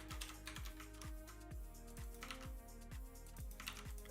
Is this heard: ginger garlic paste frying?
no